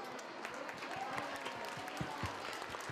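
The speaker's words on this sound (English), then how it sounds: "Can I have another round of applause for them?" A crowd claps steadily at an elementary school Lunar New Year celebration, dense, even applause filling the room, with some voices faintly mixed in.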